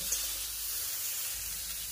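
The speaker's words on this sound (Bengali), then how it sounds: "এবারে বেগুনটাকে একটু ভাজা করে নেব।" Chopped eggplant with salt and turmeric fries in oil in a pan, a steady faint hissing sizzle throughout.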